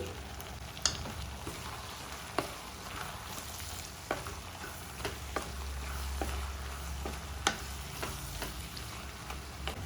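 Tomato, onion and garlic masala with chilli powder fries in a pan, making a soft continuous sizzle broken by several sharp clicks of a spoon against the vessel, close by, with no one speaking.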